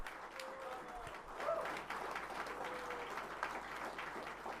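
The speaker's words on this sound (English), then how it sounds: "Please give him a great clap once again." An audience at a science event at a centre in Delhi gives a steady round of clapping at moderate distance, with faint voices mixed in underneath.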